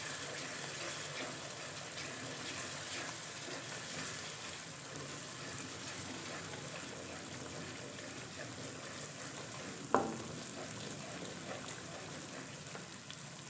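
Ginger garlic paste fries with tomatoes in a pan for a potato and egg curry, a soft, steady sizzle with one sharp utensil clink partway through.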